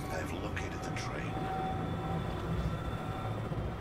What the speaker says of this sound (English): I've located the train.